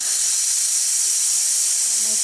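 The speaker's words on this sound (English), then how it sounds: "I'll show you the steam" The steam wand of a freshly serviced Pasquini Livia G4 espresso machine gives off a strong, steady hiss, close and loud for the whole stretch.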